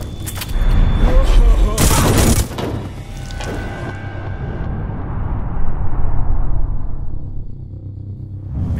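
Gunfire in Hitman Absolution, a loud burst of close shots with heavy booming decay, then a long rumbling tail fading out.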